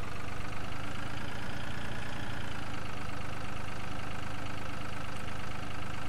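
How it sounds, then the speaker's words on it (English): Hay baler running in the Farming Simulator 2013 game, a continuous droning machine hum with a low rumbling engine underneath, steady and unchanging throughout. "So we'll turn it on and start baling our hay."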